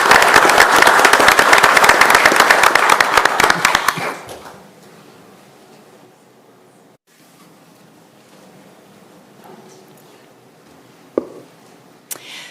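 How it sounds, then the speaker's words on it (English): Audience applause fills a city council meeting, a loud burst of clapping that lasts about four seconds, then fades into quiet room noise with a few faint knocks. "Let's give her a round of applause."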